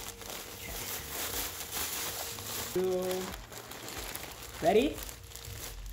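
Packaging of a yarn kit being opened, soft crinkling plastic throughout with a louder tearing burst near the end, while someone speaks briefly close by.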